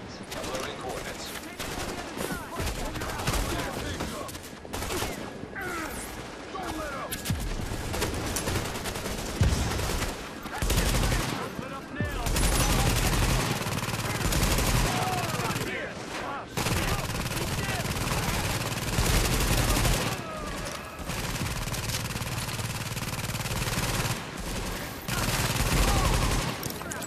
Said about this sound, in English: Of course you're taking small arms fire.